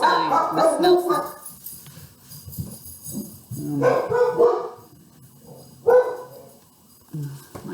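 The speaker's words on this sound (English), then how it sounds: "My doggies are barking" Dogs bark loudly in short bursts of several yaps, with quiet gaps between, at the start, the middle and near the end.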